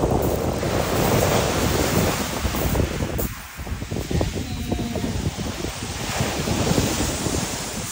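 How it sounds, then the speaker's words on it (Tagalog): Sea waves surging and washing on a shore in the United Kingdom, a loud steady roar with heavy wind buffeting the microphone and a brief lull midway. "Ayan yung dagat guys."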